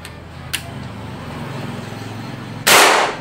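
A small click early on, then a sharp, loud PCP air rifle shot near the end, close up, with a low mechanical hum underneath.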